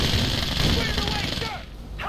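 Dense, loud gunfire in a video game as a player shoots down a bunker, a continuous barrage of shots and impacts that thins out briefly near the end before another burst.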